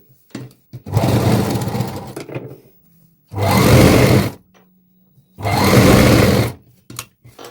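A sewing machine stitches a petticoat's drawstring casing in three loud whirring runs, each about a second long, separated by short quiet pauses with faint handling clicks.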